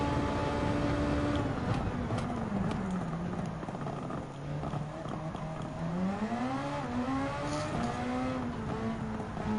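A Super Formula race car's engine on the final lap in Gran Turismo 7, a loud, continuous whine that rises and falls with gear changes, held close throughout with other tire and track noise beneath.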